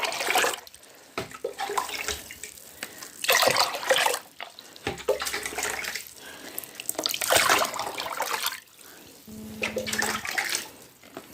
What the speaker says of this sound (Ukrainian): Добавляємо сюди холодну воду.